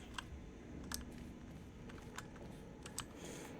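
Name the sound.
typewriters clacking in the video game Portal 2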